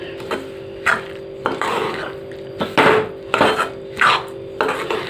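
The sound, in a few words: roasted sesame seeds transferred into a bell-metal plate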